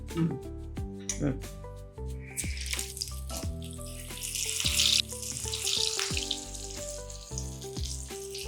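Toor dal fritter batter frying in hot oil over a medium flame, with a steady crackling sizzle beneath someone speaking throughout.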